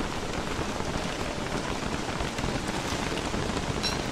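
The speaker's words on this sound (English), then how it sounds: "I hate this feature of the game that it's raining." Steady rainfall in the survival video game Don't Starve, a dense, even hiss of rain on the ground holding at a constant loud level throughout, with no voices.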